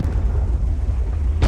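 A tank cannon fires in the World of Tanks video game: a single deep boom at the end, after a low, steady engine rumble.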